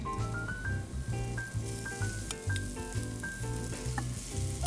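Par-cooked lentils frying in olive oil in a pan, a steady sizzle with rhythmic scraping and stirring strokes, close and moderately loud with no talk.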